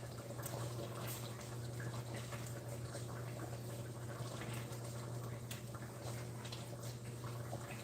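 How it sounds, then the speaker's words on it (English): Turkey chili at a steady boil in a pot, giving a dense, constant bubbling hiss with a low hum underneath, scattered small pops and drips, close and unbroken throughout. "this chili is well boiled"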